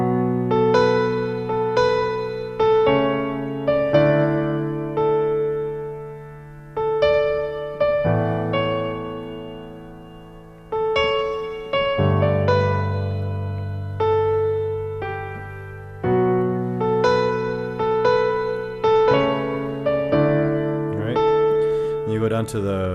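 Piano plays a melody over sustained chords, in phrases of single notes and held harmonies lasting over twenty seconds, clear and close with no talking.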